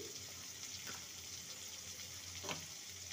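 Chopped medium onion frying lightly in a pan, a continuous close sizzle with faint stirring sounds.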